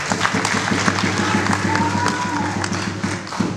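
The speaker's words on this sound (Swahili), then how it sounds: "Tumpigie makofi." A crowd of Yanga football club supporters at a gathering in Dar es Salaam claps together in a dense, steady burst of applause that fills the whole stretch at even loudness, with a faint whistle-like tone partway through.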